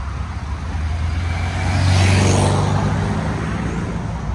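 Heavy traffic streams out of a highway exit during a Volkswagen gathering, a continuous broadband rumble of many car engines that swells as a vehicle passes close by midway, then settles back into a dense, steady roar.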